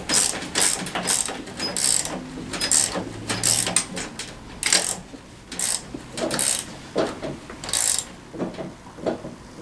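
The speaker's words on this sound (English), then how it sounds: "This is 11/16 and a 14mm ratchet. I'll go ahead and crank this thing down some." A 14mm ratchet tightens an 11/16 nut on a bolt during assembly of a Tao Tao CY150A scooter. Rapid bursts of sharp metallic pawl clicks repeat steadily, close and fairly loud, with no talking.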